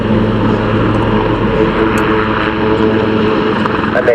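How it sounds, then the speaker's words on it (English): An aircraft at an RAF Cosford airshow transits past with a loud, sustained engine roar that holds steady throughout, broad and droning, with faint crowd noise beneath. "aircraft transiting rearwards"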